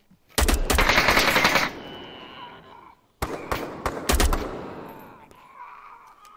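Gunfire in the VR shooter Onward, aimed at a corner: two loud, close bursts of rapid shots, each trailing off into echoing reverb, with a short quiet gap between them.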